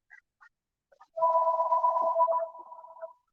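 A phone rings in a barbershop: a brief electronic tone sounds alone, several short chirps lead into a sustained warbling ring that fades out.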